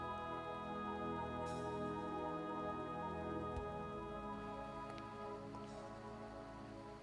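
Rain falls steadily in the video game Deadly Premonition, a soft continuous patter on surfaces with a few isolated drips, quiet and even under a faint musical drone.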